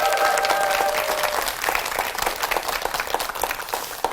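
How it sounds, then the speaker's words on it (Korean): Audience applause after a clarinet ensemble performance by players with developmental disabilities, loud dense clapping from a hall crowd that starts full and gradually thins, with a brief sustained tone at the start. "이분들한테 다시 한번 박수 한번 해주세요."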